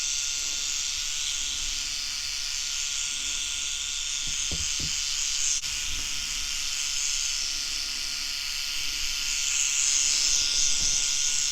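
A Microtouch Titanium Max trimmer trimming hair on the back of the neck: a loud, steady close-up electric buzz with a hissing edge, broken by faint soft taps as it moves against the skin.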